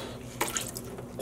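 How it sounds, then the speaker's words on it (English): Water from a vinegar pre-soak is poured into a dye pot for dyeing roving, a brief close splash and trickle over low background noise, with no talking. "And I do want to add in a bit of water."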